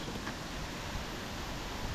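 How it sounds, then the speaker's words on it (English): Steady wind rushing outside a garage during a 1965 Chevrolet C10 build, a continuous broadband roar with no gusting peaks or voices. "It's windy as hell out today."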